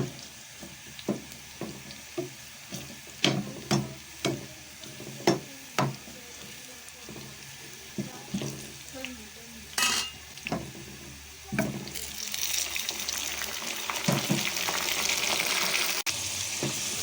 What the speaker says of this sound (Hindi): तो फिर हम उसमें टमाटर और मिर्ची डाल देते हैं